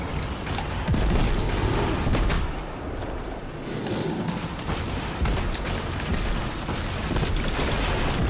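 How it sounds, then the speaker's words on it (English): Gunfire and booming blasts in the Lake of Shadows video game, dense overlapping shots, whooshes and explosions forming a continuous loud battle din with no talking. "Now we need to blast the little invincibility things."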